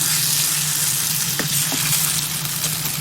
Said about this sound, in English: The next step is to stir it well again so that the cheese melts.